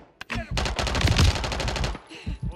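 Rapid gunfire bursts in Modern Warfare III as an enemy shoots through a wall, loud and close, a dense rattling volley lasting over a second with a brief shot just before.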